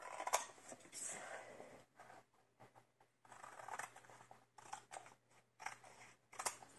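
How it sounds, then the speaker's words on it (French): Scissors cut paper at the four corners of a children's album cover, giving a string of close crisp snips and rustles in short bursts, heard alone with no talking. "on va couper ici les 4 traits, les 4 coins,"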